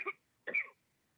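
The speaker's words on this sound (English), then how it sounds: "There's like a baby coughing or something." Two short coughs from a baby come over a meeting call, close together and fairly faint, followed by silence.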